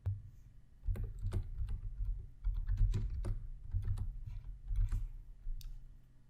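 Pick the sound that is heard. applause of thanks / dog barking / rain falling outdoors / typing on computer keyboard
typing on computer keyboard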